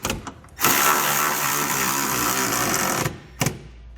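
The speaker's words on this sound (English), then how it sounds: "we can tighten down our side hardware with a 17mm socket" A power tool with a 17mm socket drives the side bolts of a Curt trailer hitch on a 2014 Kia Forte, giving a steady whirring run of about two and a half seconds, with short clicks before it and a brief burst after.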